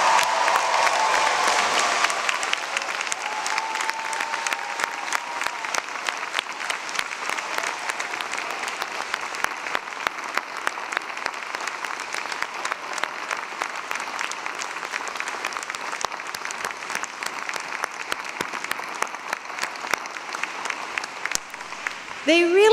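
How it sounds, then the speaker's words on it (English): University convocation crowd applauding the graduating class at the fall 2021 ceremony, a long, sustained round of dense clapping that stays steady from start to finish and swells slightly at the very end. "please join me in applauding the graduating class of the fall of"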